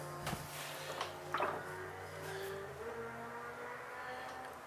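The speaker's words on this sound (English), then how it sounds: "and their uncle's out on their motorbike today by the sound of it" Motorbikes pass outside a pottery studio, faint and distant, their engines rising and fading in a couple of brief swells beneath a quiet room hum.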